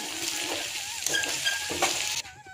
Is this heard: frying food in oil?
yes